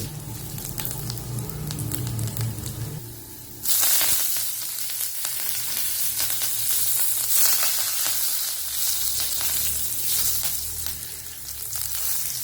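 Garlic cloves and curry leaves hit hot oil for a fish fry, the sizzle bursting up loudly after a quieter start and hissing on steadily, close, with faint stirring clinks and no talk.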